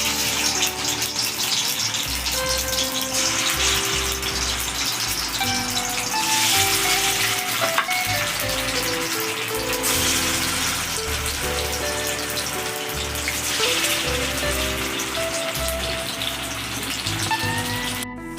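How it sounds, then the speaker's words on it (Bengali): Chhana (paneer) fritters fry in hot oil in a kadai, giving a dense, continuous rain-like sizzle that holds steady throughout, with music playing underneath. "কড়াইতে আমি তেল দিয়ে দিয়েছি, তেল গরম হয়ে গেছে, এই পিঠাগুলো আমি দিয়ে দেবো।"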